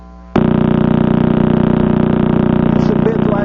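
Crab pulsar radio emission played as audio, a rapid buzzing drone of about 30 pulses per second like a kitchen blender, starting abruptly and holding loud and steady to the end.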